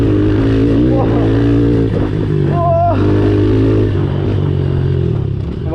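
A 110cc Honda CRF dirt bike engine drones and revs close by while riding enduro over rough, bumpy ground, with a person talking over the noise.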